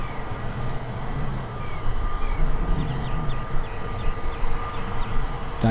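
An EasyJet airliner at Birmingham Airport, a steady broad engine roar at moderate distance that swells slightly and holds, with faint tonal whine on top and no voices.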